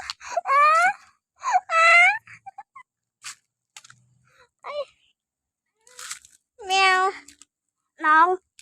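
A cat meows loudly in several drawn-out, wailing calls during a chase, separated by pauses with faint rustling and brief voices in between.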